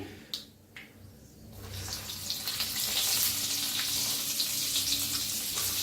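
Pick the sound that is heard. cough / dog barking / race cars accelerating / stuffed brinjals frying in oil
stuffed brinjals frying in oil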